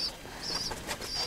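Soft pigeon cooing with a fluttering of wings, a few short bursts close by in a quiet village home.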